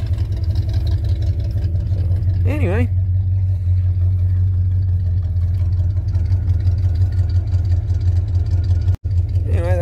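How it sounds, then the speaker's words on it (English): A 1974 GMC truck with dual exhaust and a manifold gasket exhaust leak idles steadily with a low, rumbling drone and slight uneven puffing, while someone talks briefly over it. "Bit of an exhaust leak. I think it's coming out of one of the manifold gaskets down there."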